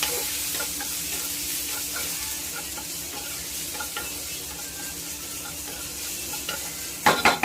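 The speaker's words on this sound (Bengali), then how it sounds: "দেখুন টমেটো আর পেঁয়াজটা হালকা হাতে ভাজা হয়ে গিয়েছে।" Tomato and onion frying in a pan for a Bengali katla fish mustard curry, a steady soft sizzle with faint stirring scrapes throughout and a brief louder clatter near the end.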